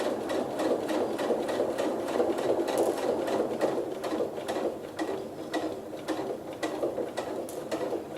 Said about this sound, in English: Back stitch a couple stitches, stitching right on that basting line, removing the pins as I go.